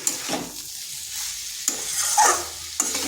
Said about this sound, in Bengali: আর ঢাকা দেব নি, এইভাবে 2 থেকে 3 মিনিট একটু নেড়ে নিচ্ছি।